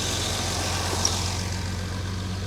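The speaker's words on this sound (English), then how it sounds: "Idle is a little bit higher than usual." A car engine idling slightly high after the choke turns off, a steady low rumble with even pulsing, moderately close and unbroken with no talk.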